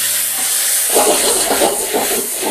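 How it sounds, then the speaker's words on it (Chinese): Drained shiitake mushroom slices pan-fry in cooking oil with a loud, continuous steamy hiss, and bursts of crackling spit through it. "香菇下锅煎炒一分钟左右"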